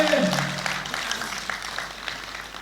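A live comedy show audience claps steadily, a dense wash of applause that holds for a few seconds, with a brief voice at the start.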